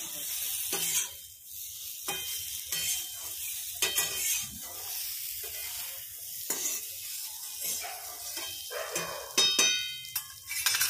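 A spoon stirs a spice mix into potatoes and peas in a frying pan, with soft sizzling underneath and repeated scraping and clinks against the pan, close and fairly quiet throughout.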